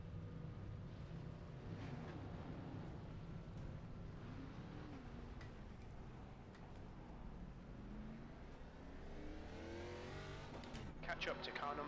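Several stock race cars in an iRacing ARCA Series game race at Michigan International Speedway pull away from a standing start, engines droning and climbing in pitch together, with a sharper rev surging near the end.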